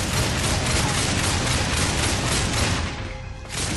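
A crafted pistol in Darksiders fires a continuous, unbroken stream of rounds, a loud, dense roar of rapid shots that briefly drops away near the end before resuming.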